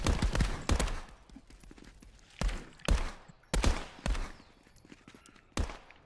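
Gunshots in the co-op VR shooter ContractorsVR, fired in short bursts and single cracks with uneven gaps between them, loud and close, and softer clatter and movement sounds in between.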